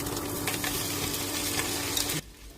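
Roti pieces sizzling with egg in a hot pan, a steady close frying hiss with light stirring scrapes, dropping to a quieter sizzle near the end.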